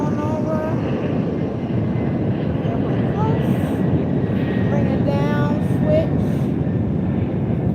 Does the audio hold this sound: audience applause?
no